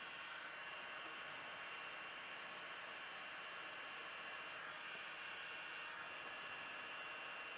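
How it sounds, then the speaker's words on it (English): A wearable 4-in-1 personal fan running at 75% power, a steady even whooshing roar of airflow, close and constant, with no pauses or talking. "That's a good amount of airflow."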